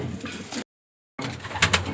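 A female racing pigeon coos close by, a few soft throaty calls broken by a short gap of silence, with light rustling around them.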